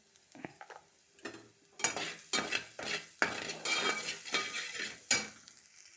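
Rice mixture with sweet corn and carrot being stirred in a pan after salt is added: a run of scraping, clinking spoon strokes against the metal, close and uneven in rhythm, with no talk.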